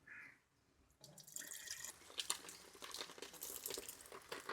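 Water running from the outlet of an Aqua Pro water filter after fitting, a soft continuous splashing trickle with no speech, starting quietly and turning steady after a brief pause.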